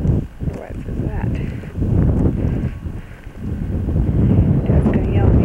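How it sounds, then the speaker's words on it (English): Wind buffets the microphone with heavy low rumbling gusts indoors, rising and falling throughout, while a voice speaks over it. "it's windy in here"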